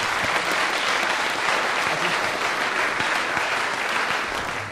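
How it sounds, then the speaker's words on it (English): A room full of people clapping at an institute gathering, dense sustained applause close up that carries on through the whole stretch and fades slightly at the end. "could we just give a big round of applause to all the colleagues that presented this morning?"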